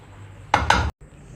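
Cooked chicken macaroni being dished out of a pot, with two close, brief scrapes and clinks of a utensil against metal, followed by a short silence and quiet room tone.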